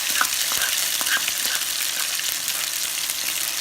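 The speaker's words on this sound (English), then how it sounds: "And fry it very nicely till it changes its color." Steady crackling sizzle of a thick onion masala paste frying in a pan, close and continuous, with occasional stirring scrapes and no talking.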